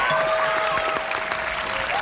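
A game show studio audience applauds, dense steady clapping that fills the room at full volume with faint cheering mixed in and no voices over it.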